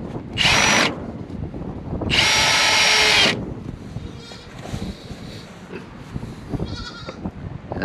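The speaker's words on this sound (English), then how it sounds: "I can go ahead and put these screws all the way in." Power drill driving screws through a pipe into wood in a livestock barn, two loud close whirring bursts, a short one and a longer one, separated by quieter background noise, with no talk.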